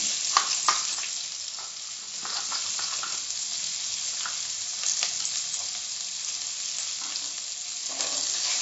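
Chopped onion sautéing in a pan while making Karnataka-style vegetable sambar, a constant close hiss of frying with intermittent scraping stirs throughout.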